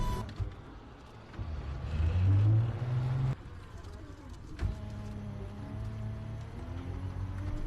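An electric tricycle's rear wheel runs after its brake drum was replaced, giving a motor whine that rises and then settles into a steady hum with a few clunks. No one speaks.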